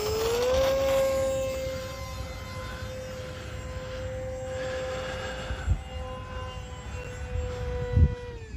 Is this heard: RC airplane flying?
yes